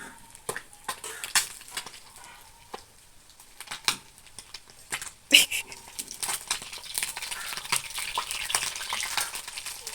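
A stingray fish frying in a pan and being turned over, with intermittent scraping, clinking and sizzling bursts of the spatula and pan, fairly close, with some voices in between.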